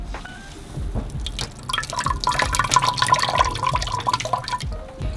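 Coconut milk squeezed by hand from grated coconut on an island, patters and drips steadily into a bowl at close range, a wet trickle lasting several seconds without talk.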